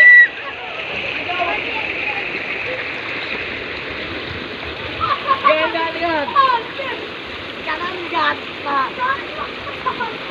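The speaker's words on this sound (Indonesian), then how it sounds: "Saat ini kita mau lihat kondisi sungai." River water flows steadily at Tanah Raja in a rural village, with splashes of people bathing and the voices of children and others scattered across the second half.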